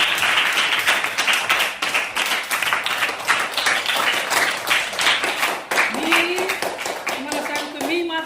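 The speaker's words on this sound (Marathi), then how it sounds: "आता जोरदार क्लॅपिंग फॉर यू म्हणजे तुम्ही तुमच्यासाठी जोरदार टाळ्या" A classroom of students clapping loudly and continuously, a dense, close burst of applause that carries on throughout while someone speaks over it.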